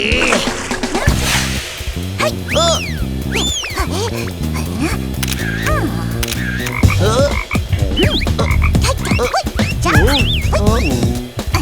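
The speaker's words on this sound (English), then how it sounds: "In this area, there's a frog," Frogs croak loudly in repeated pulsing bursts, with squeaky chirping calls layered over them and talk in the background.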